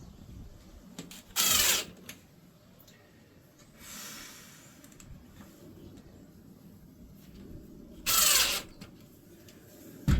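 A power driver sinks screws into a van's floor covering in two loud, short bursts several seconds apart, with softer handling noises and a faint whir between them in a quiet space.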